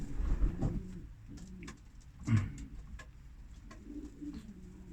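Domestic racing pigeons in a loft in England coo softly with low, repeated throaty calls, a louder burst near the middle, over faint ambient rustling.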